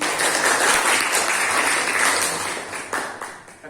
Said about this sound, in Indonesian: boleh kita berikan tepuk tangan untuk teman.